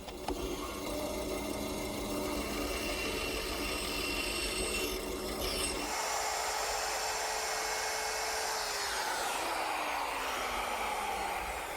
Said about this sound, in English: Now a couple more cuts at the bandsaw will complete the tenon.